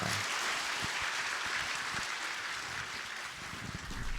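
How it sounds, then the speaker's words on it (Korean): A church congregation at a Sunday service in Daegu applauds to celebrate a childbirth grant, a dense steady wash of clapping that runs for the full stretch at moderate, fairly distant level, with no voices over it. "이 시간 출산 장려금 드릴 때 박수로 축하해 주시기 바랍니다"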